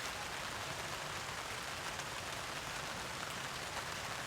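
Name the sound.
heavy rain falling on tarp while camping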